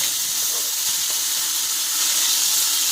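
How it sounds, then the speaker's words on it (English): Bacon from a 12-ounce package, cut into 1-inch pieces, sizzles loudly in a pan with a dense, constant crackling hiss close up and no voices. "This is a 12-ounce package of bacon that we have cut into 1-inch pieces. And it's going to sizzle"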